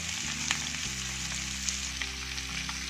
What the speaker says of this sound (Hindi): लो फ्लेम पे हमने करना है इसको फ्राई